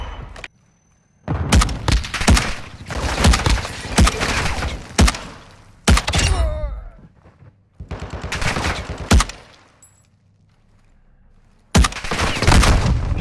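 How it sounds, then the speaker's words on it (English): Video game gunfire: loud bursts of rapid automatic fire and single heavy shots come in clustered volleys, broken by short quiet gaps and a sharp shattering crack. "Taking effective fire."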